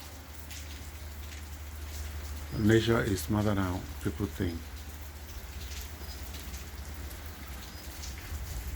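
Steady rain falls through a cold, quiet city night, a soft continuous patter filling the background while someone speaks briefly in the middle.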